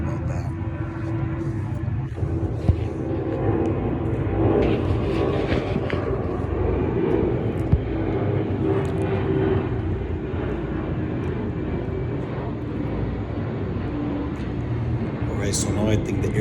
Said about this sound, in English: So now I think the airplane is passing by